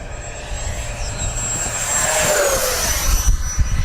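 An FMS SU-27 twin 70mm EDF model jet flies past fast and low over a grass field, its high ducted-fan whine rising and sweeping down in pitch as it passes, loud and close, with no talking.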